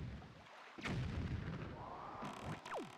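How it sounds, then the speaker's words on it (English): A cannon fires in the video game Zelda: The Wind Waker, a booming blast followed by sweeping whooshes and a falling whistle over steady game ambience, with no voices. "I love the cannon."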